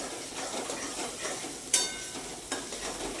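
Onions frying in a pan for paneer bhurji are stirred, giving a steady sizzle with a couple of sharp scrapes of the spoon against the pan.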